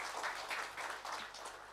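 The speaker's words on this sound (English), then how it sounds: "I think they just require a big round of applause." Soft, steady applause from a conference audience at the 2019 OFISACON event, many hands clapping in a continuous distant patter with gentle surges.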